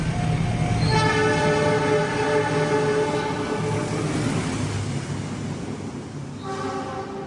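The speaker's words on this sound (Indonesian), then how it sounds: "Itu dia kereta api Sembrani ya." A Sembrani passenger train rolls past with loud, sustained horn blasts over the heavy rumble of wheels and carriages, the horn cutting out and sounding again near the end.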